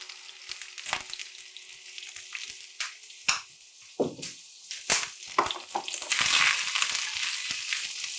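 Red onion sizzling in a very hot pan with a little rapeseed oil, a steady crackling fry with scattered stir clatters and scrapes, growing louder and denser toward the end.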